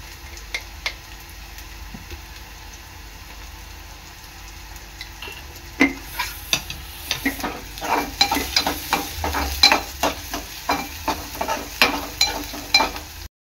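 Onion frying in a pan with salt for a brinjal bharit, a low sizzle that grows busier as rhythmic stirring strokes and spatula scrapes tick along in the second half, close and moderately loud.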